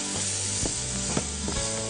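Onions sprinkled with cumin fry in a pan until charred, giving a steady close sizzle broken by three short scraping strokes of a stirring spoon.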